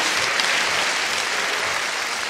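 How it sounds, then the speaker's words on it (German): Studio audience at a Schlager TV show applauds a singer, a dense, steady wash of many clapping hands at full volume throughout, with no voices audible. "Das ist dein Applaus, meine Damen und Herren"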